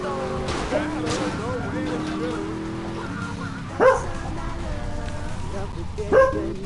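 A dog barks and whines amid steady background noise, with two sharper, louder yelps standing out near the end.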